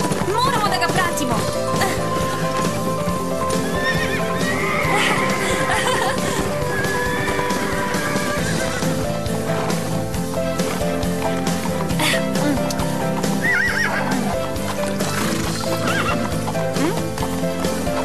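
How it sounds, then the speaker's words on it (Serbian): Racehorses galloping in a race, with repeated loud neighs and whinnies over a dense, continuous drumming of hooves, close and busy throughout, mixed with other racing noise. "Hajde, Mistral, vidiš li onog konja ispred?"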